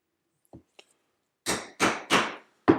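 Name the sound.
hammering a stitching chisel to punch leather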